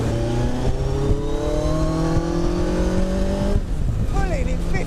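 Kawasaki Hayabusa Gen1 motorcycle in Kawasaki green, its engine revving hard and rising steadily in pitch through the gears, loud and close, then dropping off at a shift before climbing again, with a voice talking underneath.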